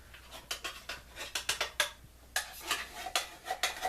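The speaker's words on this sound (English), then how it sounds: "Trying to get as much of it out of the can and into the pot as you can." A utensil scrapes and taps tomato soup out of a metal can into a crockpot, making a quick run of sharp clinks and scrapes in an irregular rhythm, close and fairly quiet.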